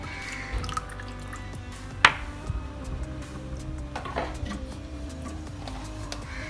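Strained tamarind water is poured into a simmering prawn curry, giving soft splashes and drips close by, with one sharper splash and quiet kitchen background and no talk.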